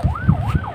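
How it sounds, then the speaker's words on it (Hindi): An ambulance siren wails in a smooth rising and falling sweep, steady and fairly prominent over low traffic rumble, with no voices. "अब अल्लाह रहम करे, एक एम्बुलेंस की आवाज़ आ रही है"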